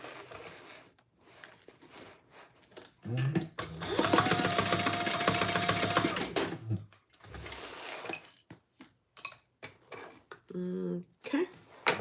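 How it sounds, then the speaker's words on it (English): Sewing machine stitching a few holding stitches along the top of a cross-body bag, running steadily for about three seconds mid-clip between quieter handling clinks and short bursts. "Just a few stitches to keep it where you want it while you're sewing the top closed."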